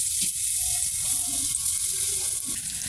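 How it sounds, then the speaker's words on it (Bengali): Crushed garlic and onion frying in oil, a loud dense sizzle running throughout, close to the pan, with faint tonal clinks and stirring sounds underneath. "পেঁয়াজ রসুন একটু ভাজা ভাজা করে নিছি"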